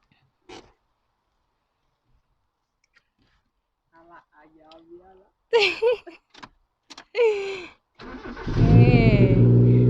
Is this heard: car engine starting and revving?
yes